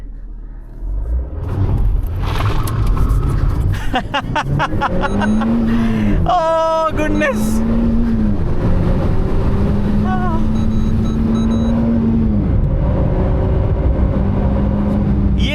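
A Renault Alpine A110 with its 1.8 litre Nissan-sourced engine runs loudly throughout, a steady low rumble swelling in revs with rising tones, while someone speaks over it.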